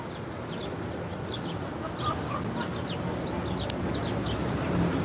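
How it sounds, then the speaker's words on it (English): Outdoor birds give repeated short chirps and tweets at a moderate distance over a steady background hiss, with calls scattered irregularly throughout. "all this bird song around me reduces my cortisol"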